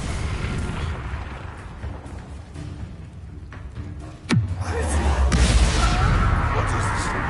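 Bombarda spell blast in Hogwarts Legacy: one sudden loud boom with a falling whoosh, then a sustained rumbling roar of debris and noise, over game ambience.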